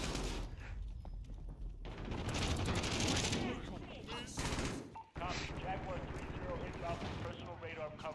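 Rapid gunfire bursts from a first-person shooter game in a killhouse map, loud and dense with sustained automatic fire and sharp shots, broken by a brief lull before firing resumes.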